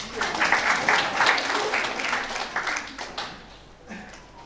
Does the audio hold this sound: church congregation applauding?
yes